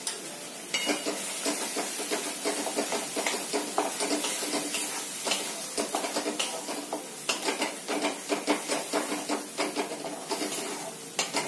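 Tomato puree with a little turmeric sautéing in a pan while making paneer angara, a steady close sizzle and hiss broken by frequent scraping stirs of a spoon against the pan.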